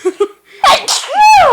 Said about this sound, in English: If you sneeze more than 3 times in a row, you're just looking for attention.